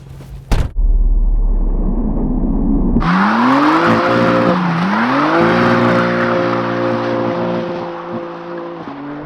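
A 2023 BMW M4 CSL on launch control: a loud, close engine holds revs, then the car launches with a roaring surge and rising tone through several upshifts, heard up close from inside.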